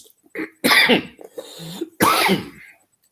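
Two harsh, close coughs with a brief throat-clearing sound between them, loud and abrupt against near silence.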